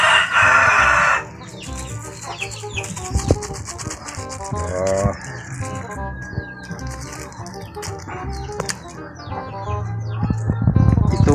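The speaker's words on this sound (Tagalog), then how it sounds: "Native talaga tong chicken na tong lilitsunin namin." A live native chicken crows loudly at the start and then clucks and chirps repeatedly at close range among other bird calls and outdoor sounds, with no talking.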